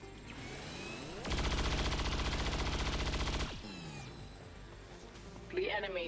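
A gunner fires a sustained automatic burst in XCOM Long War of the Chosen. The loud, rapid rattle lasts about two seconds, set between quieter game ambience and softer effects.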